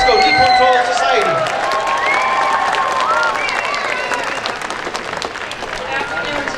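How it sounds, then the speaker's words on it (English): Audience at the Northern California Cherry Blossom Festival in San Francisco's Japantown applauds loudly for the San Francisco Nipponto Society's final performance, with cheering and crowd voices rising over steady outdoor clapping throughout. "let's give them the loudest round of applause"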